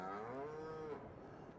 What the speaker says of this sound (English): All mooing, all munching.